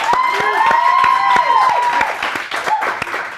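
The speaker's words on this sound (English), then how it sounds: "keep that applause rolling for comedian and KUNM host Marty Adamsmith" A live comedy show audience applauds and cheers for a comedian and radio host, a sustained crowd clapping with whoops and a sustained shouted cheer riding above the clapping.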